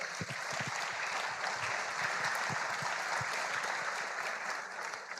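Applause from a large audience at a men's gathering in Jundiaí, Brazil: a broad wash of many hands clapping at once, steady and sustained, somewhat distant in a big hall.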